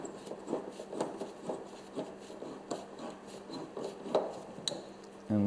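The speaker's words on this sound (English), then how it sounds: "So we'll use a 5/16 inch nut driver." A 5/16 inch nut driver working hose clamps on the gas tank filler and breather hoses of a 1988–1999 Chevy 1500 truck: repeated scraping, ratcheting rubs and small metallic clicks, close and moderately quiet, with no talk.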